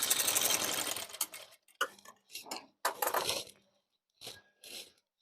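A sewing machine stitches a ready-made dress alteration with reverse backstitching, running in a steady rattling burst and then in short stop-start runs separated by pauses, close and loud, with no speech.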